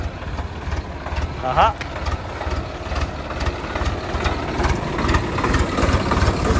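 A John Deere 5050D tractor engine runs steadily at low revs on a sloping farm field, a continuous rumble beneath a man's brief exclamation.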